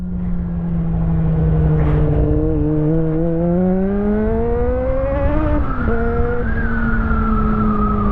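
Motorcycle engine revving steadily during a ride, the pitch climbing gradually over several seconds, then dropping briefly at a gear change before settling at a constant drone; loud and close, with no talk.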